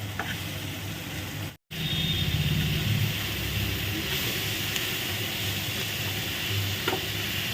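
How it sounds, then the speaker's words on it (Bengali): Pointed gourd paste sautés in oil in a pan, giving a steady close sizzle with occasional stirring scrapes, broken once by a brief silent cut, with no talk. "আমি হালকা হাতে পুরো সতে করে নিয়েছি"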